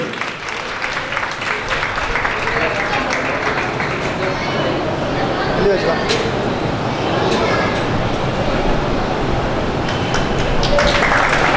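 Steady broadband clapping from an audience at an annual function, welcoming Mr. Naveed Pardesi to the stage, sustained and fairly loud throughout with a crowd murmur underneath.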